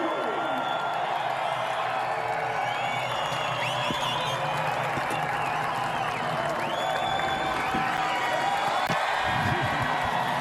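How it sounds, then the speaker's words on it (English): A sellout West Coast crowd at the 2021 Pennzoil 400 NASCAR Cup Series race cheers and roars steadily, a dense, far-off wash of voices with scattered whoops and clapping, loud throughout. "Well, you heard that appreciative West Coast crowd"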